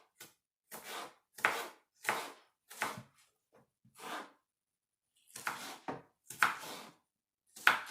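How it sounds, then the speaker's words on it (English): A knife dicing onion on a cutting board, a series of crisp separate chops in short bursts with brief pauses between, close and clear with no talking. "so now we're going to dice up some onion"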